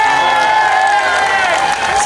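At the Lachute en fête festival, a large crowd cheers and whoops loudly in a continuous, dense roar of voices, with clapping blended in throughout.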